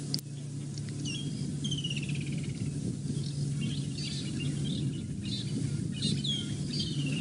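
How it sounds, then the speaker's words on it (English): Several birds chirp and call in the distance on an African safari, near a leopard, over a constant low hum, with repeated short whistling phrases scattered throughout. "You can hear all the birds calling around him."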